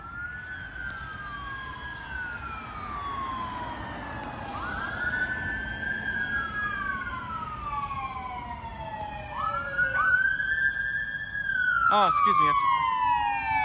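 A passing emergency vehicle, an EMS supervisor unit, sounds its siren. A loud wailing tone sweeps repeatedly up and down, then switches to faster yelps as it nears, with street traffic behind and a brief spoken remark.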